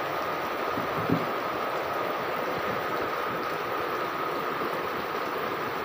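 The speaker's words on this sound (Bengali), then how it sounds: "খুব খুব খুব বৃষ্টি।" Heavy rain pours steadily outdoors, a dense, even hiss that continues without a break, fairly loud and with no one speaking.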